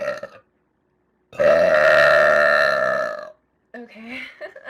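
A woman lets out one long, loud burp of about two seconds, close and dominant, after a short vocal sound and before brief talking resumes.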